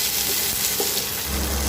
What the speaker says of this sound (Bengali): এবার এর মধ্যে দিয়ে দেব আমি কুচনো টমেটো